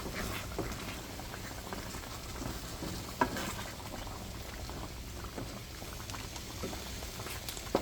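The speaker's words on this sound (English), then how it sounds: "Then we're gonna put everything to boil, and then we're gonna start simmering our dish so we can incorporate all the flavors." Beef mechado stew boiling steadily in a pot, a continuous bubbling and popping wash with soft liquid patter throughout, close and moderately loud, with an occasional sharper bubble burst.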